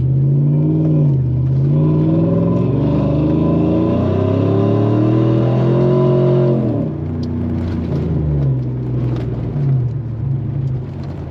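A 2011 Chevrolet Silverado pickup with a choppy tune accelerates hard while driving, its loud engine note climbing steadily in pitch for about six seconds before easing off into a lower, steadier cruising drone.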